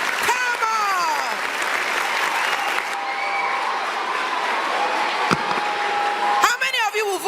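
Loud sustained applause and cheering from an audience after a candidate's speech at a Nigerian campaign-style gathering, continuous claps filling the whole stretch with crowd voices mixed in.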